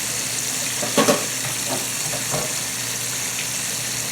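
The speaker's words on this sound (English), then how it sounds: "We got that fish frying up nicely." Steady sizzling of catfish frying in a pan, a constant hiss with a few soft clinks and stirring taps near the start.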